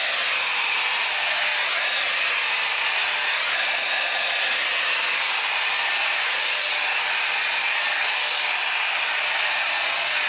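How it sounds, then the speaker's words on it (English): A Shein 5-in-1 air styler blow-dries hair with a steady, loud, continuous whoosh of air at close range, with no talking. "I'm gonna take this one, pop it on, and I'm just gonna dry my entire head right now."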